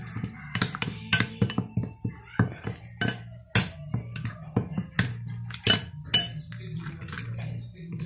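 Spices are mixed in a bowl for a fish fry, the spoon scraping and clinking sharply against the dish in quick, irregular strokes, close and clear.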